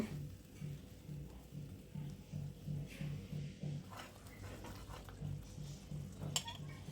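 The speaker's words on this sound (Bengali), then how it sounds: "সরষে বাটা দিয়ে দিলাম, দিয়ে একটু নেড়েচেড়ে রান্না করব।" Mustard paste is stirred with hilsa fish in a pan, giving a soft repeated scraping and clinking of a utensil against metal with a low sizzle underneath. The sound is faint and steady.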